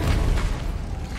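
Confringo and Incendio spell explosions in the Hogwarts Legacy video game boom out as a loud, deep, rumbling blast that fills the whole moment and slowly fades.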